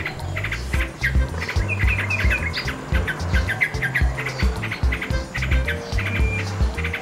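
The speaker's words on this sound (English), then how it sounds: "nightingale," Nightingale song, a varied run of bright chirps, trills and whistled phrases repeating in quick bursts, fairly close over faint low background noise.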